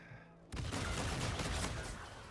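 Gunfire in the shooter game Call of Duty: Infinite Warfare bursts in after a quieter moment, becoming a loud, dense continuous volley of rapid shots.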